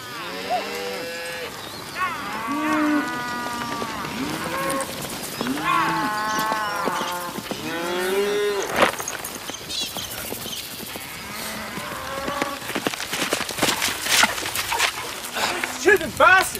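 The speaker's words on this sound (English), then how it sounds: "Those cows are calving." Cattle mooing repeatedly on a farm with calving cows, loud drawn-out bellows overlapping through the first half, then shouting voices and clattering noises as people talk over the herd.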